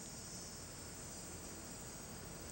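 Insects, cicadas or crickets, buzz steadily in rural farm fields, a continuous faint high-pitched drone with no breaks and no voices.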